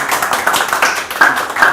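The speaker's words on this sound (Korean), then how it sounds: "박수 소리가 큰 만큼 복 많이 받으시기 바랍니다" Audience clapping in a seminar hall, a dense steady patter of many hands lasting under two seconds, fairly loud and close, with no talking over it.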